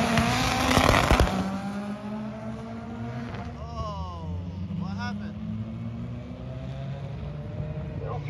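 A Dodge Challenger roars down a drag strip at a motorsports park, with a loud, sustained engine drone that rises through its gears and sweeping pitch shifts as it runs off into the distance.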